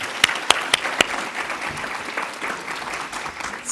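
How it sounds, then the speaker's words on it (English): Audience applause at an International Women's Day event in 2024, a steady wash of clapping with a few sharper individual claps near the start, fairly close and sustained for a few seconds. "let's give them another round of applause"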